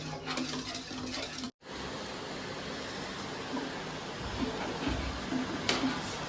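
A utensil stirs ragi koozh porridge in a pot, a steady soft scraping and swishing with faint clinks, quiet and close, running continuously apart from one brief gap.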